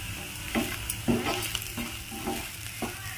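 Onion kachori filling with coriander powder and spices frying over medium flame, a continuous close sizzle marked by repeated scraping stirs of a spoon against the pan.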